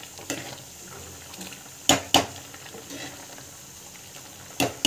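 Thick tamarind curry (puli kuzhambu) being stirred in a pot, with quiet bubbling and a few sharp scrapes and clinks of the ladle against the vessel, close and otherwise calm.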